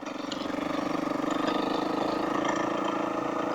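A 2022 Husqvarna FE 350s motorcycle idles steadily with its exhaust end cap removed, giving a continuous, fairly loud mid-range engine drone with a slight rhythmic pulse and no talk over it.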